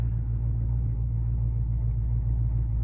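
A straight-piped 2012 to 2015 Chevrolet Camaro idles after a cold start, a loud, steady, deep exhaust rumble heard nearby and continuing without pause, with no talk.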